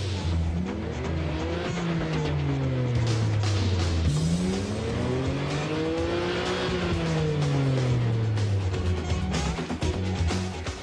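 A Nissan Skyline GT-R with the RB26 engine revs and accelerates hard. Its loud engine note climbs and drops in pitch repeatedly over about eleven seconds with gear changes and a harsh, racing-style tone, and no talk.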